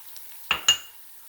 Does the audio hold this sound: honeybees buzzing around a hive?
no